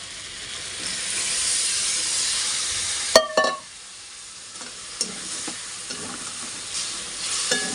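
Mutton masala sautés in a pan with a little mutton stock added, giving a steady hiss that drops away sharply after a loud scrape, followed by quieter sizzling and occasional clinks.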